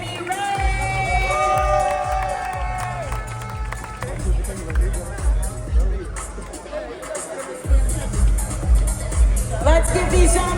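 Spectators at the HYROX World Championships 2025 cheer and clap for the race winners, a busy crowd roar and babble under a loud announcer's voice, with a short lull before the noise rises again.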